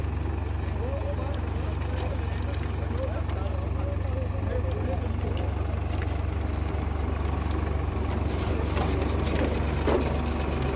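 A tractor engine runs steadily with a potato digger attached, lifting red potatoes in a field; the low, continuous rumble stays close and loud throughout, with faint mechanical rattles above it.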